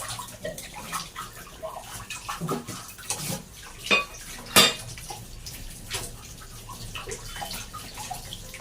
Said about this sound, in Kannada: ಆ ಪಾತ್ರೆಗಳನ್ನೆಲ್ಲನೂ ಗ್ಯಾಪಲ್ಲಿ ತೊಳೆದು ಇಟ್ಕೊಂಡ್ಬಿಟ್ಟು